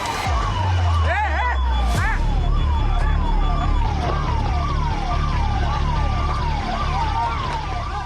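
Sirens of fire brigade vehicles responding to a fire at the Mahakumbh fair in Prayagraj wail loudly and continuously, several overlapping rising and falling tones with engine rumble and a brief horn blast underneath.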